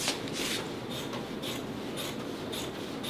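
Batting shears cut through quilt batting in steady, even, close snipping and rasping strokes about twice a second, with no talk.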